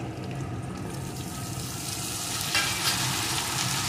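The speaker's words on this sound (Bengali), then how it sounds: "আলুটাকেও একটু ভেজে নিয়েছি, এখন আমি উচ্ছেগুলোকে দিয়ে দেবো" Potato pieces and bitter gourd fry in a pan, a steady, close sizzle with faint stirring scrapes and no voices.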